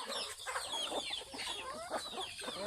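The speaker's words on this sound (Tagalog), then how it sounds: "Manok ko." Chickens cluck and chatter nearby, several birds overlapping in a busy, continuous stream of short calls.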